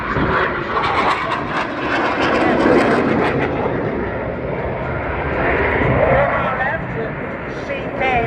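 Jet aircraft flying a display at the RIAT 2022 Air Tattoo, its engines making a loud, continuous roaring whoosh that swells and eases as it passes, while a commentator talks over it throughout.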